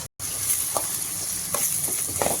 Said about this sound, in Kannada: ತರಕಾರಿ ಎಲ್ಲ ಎಣ್ಣೆಲಿ ಫ್ರೈ ಆದಮೇಲೆ ಮೊಟ್ಟೆನ ಹಾಕೋತಾ ಇದ್ದೀನಿ